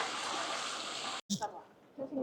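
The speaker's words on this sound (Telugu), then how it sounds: "చూడండి ఇక్కడ వాటర్ కొంత ఫ్లో అవుతూ ఉంది." Fresh water flows through volcanic rock swimming pools on Madeira, a steady broadband rush that cuts out briefly and returns more faintly beneath scattered voices.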